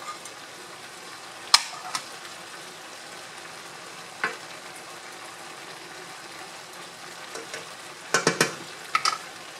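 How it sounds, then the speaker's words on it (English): Shrimp going into a pan for pork and shrimp pinakbet gives a soft, low sizzle, broken by a few sharp clicks and clatters of a utensil against the pan. "Now we are going to add my shrimp."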